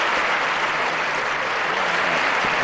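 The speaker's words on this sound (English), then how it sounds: "Big round of applause." Loud, sustained clapping from a large crowd at a cricket awards show, dense and even throughout with no pauses.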